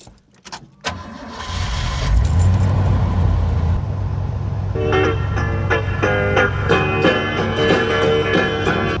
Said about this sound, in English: I'm gonna start it up so you can hear the rumble